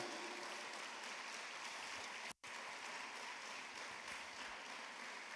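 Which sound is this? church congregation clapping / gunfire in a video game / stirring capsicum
church congregation clapping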